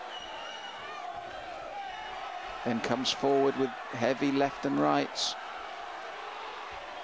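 A boxing fight night crowd roars in bursts of shouts and cheers behind a commentator who keeps talking over the noise, with the loudest swell in the middle.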